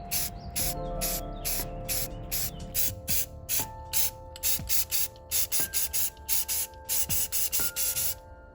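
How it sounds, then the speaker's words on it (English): Black spray paint hisses from an aerosol can onto trim pieces, coin-like details and a pommel, in a run of short sharp bursts that come quicker and closer together toward the end, with a faint rattle underneath. "I sprayed each of them with black spray paint."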